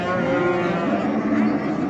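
Cattle lowing at the Karshi Karvon livestock market in Uzbekistan where cows and calves are sold, steady and close over a dense market din with people talking throughout.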